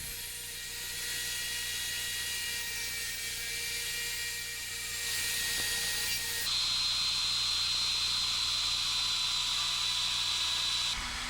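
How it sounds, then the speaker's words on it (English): A router cuts into a wooden bed post spinning in a lathe, giving a continuous high-pitched whine and hiss that shifts to a sharper, higher tone midway as the bit bites deeper, steady and close with no talk. "the router is brought in from the side until a bit is centered on the stock"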